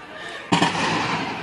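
Gunfire from weapons of war on a street in the Las 3000 Viviendas district of Seville: one sharp, loud bang that rings out and decays slowly with a long echo between buildings.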